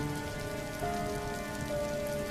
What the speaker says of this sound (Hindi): अन्नपूर्णा रोती हुई बेटियों को लेकर तेज बारिश और अंधेरी रात में निकल पड़ती है।